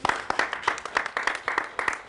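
Small audience clapping after an answer at a director's talk, a few hands giving uneven, sparse claps in short bursts, moderately close and fairly quiet.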